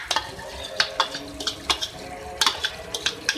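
A spoon stirs yogurt into tinday gosht in a pot, producing irregular scraping clinks of metal on metal over a soft simmering sizzle, close and moderately loud, with no talking.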